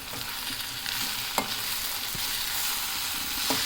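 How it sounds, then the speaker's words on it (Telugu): Steady hiss of cabbage frying in a pan, with a few scraping stirs of a utensil against the metal. "వేయించాలి. మధ్య మధ్యలో కలుపుతూ ఉండాలి."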